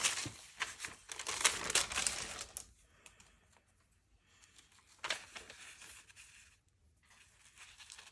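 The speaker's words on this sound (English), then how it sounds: "just use the scissors." Scissors snip through napkin paper in quick bursts of crisp crinkling cuts, a busy stretch at first, then a quieter pause before another short run of snipping, close and fairly faint with no talking.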